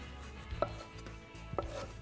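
A knife slices through a fresh tomato on a cutting board, making two crisp strokes about a second apart over a quiet kitchen background.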